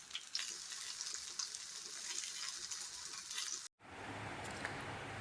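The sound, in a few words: frying food in a pan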